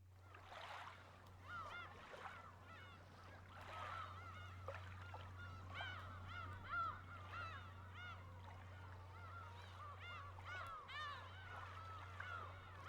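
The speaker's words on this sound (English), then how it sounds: "I love the cries of the seagulls." Seagulls cry repeatedly and faintly over a steady low hum in the video game Umineko, their thin calls recurring throughout against a quiet seaside ambience.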